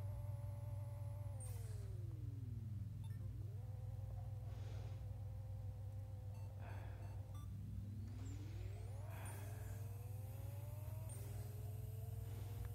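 A car engine in a driving video game revs up and down repeatedly while warming the tires, rising and falling whines over a steady low idle hum, alone without talk.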